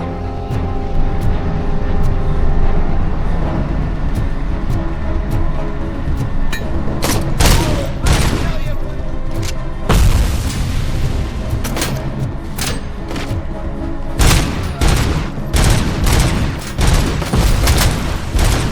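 Grenade explosions and rapid gunfire from the video game Robocop Rogue City, with repeated heavy booms and bursts of shots layered over a dense, continuous battle din.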